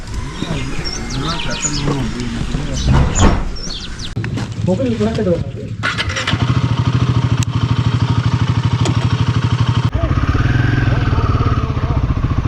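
A motorcycle pulls away on a ride from Coonoor toward Kotagiri, its engine rising to a steady, loud, rumbling drone after earlier clatter and birdsong, with speech heard over the start.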